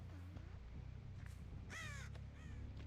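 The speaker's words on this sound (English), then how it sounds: "Angry bird noises" Crow cawing in the video game Dead by Daylight, several harsh caws with a loud burst near the middle, set over a steady low game hum and background noise.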